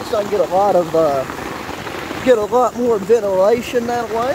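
Heavy rain pours steadily onto a tarp stretched over a camping tent during a thunderstorm, a dense, continuous close-up patter that runs beneath someone talking throughout.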